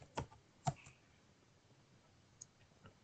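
Typing on a computer keyboard: a few sparse, sharp key clicks, close and quiet, separated by near-silence.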